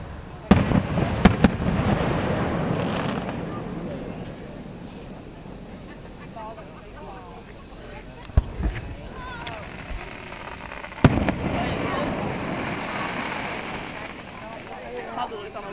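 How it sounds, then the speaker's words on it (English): Outdoor fireworks display in Tri-City, Kentucky: a few sharp, distant bangs and crackles spread over the stretch, separated by rumbling and crowd murmur, with people talking in between. "What's that? Fireworks."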